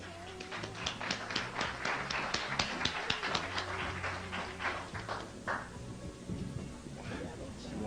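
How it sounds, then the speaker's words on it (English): Audience applause at an evening lecture welcoming someone speaker onto the stage, a brisk run of distinct claps over low background music that thins and fades after several seconds, with voices murmuring underneath. "Let's bring her on with a round of applause."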